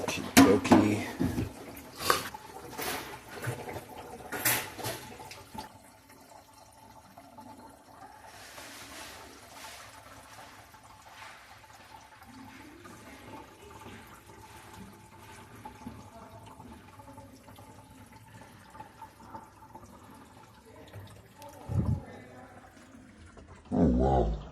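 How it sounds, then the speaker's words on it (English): Water rushing and gurgling into a sink drain while it fills to reveal a leak on the right side, a steady running flow with a few louder clunks at the start and end. "I'm going to fill up the drain and show a little bit where this leak is coming from on the right side"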